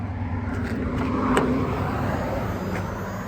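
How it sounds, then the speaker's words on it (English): A 1995 Toyota 4Runner with a rebuilt 3VZ V6 engine idles steadily and close by just after a cold start, with a low, even rumble and no talking. "We're going to demonstrate cold start."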